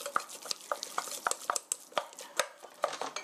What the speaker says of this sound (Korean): 젓가락으로 살살 골고루 버무려 주시고요